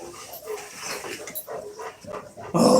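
A puppy gives soft whimpers and short yips close by across a few seconds, ending in a louder burst of sound.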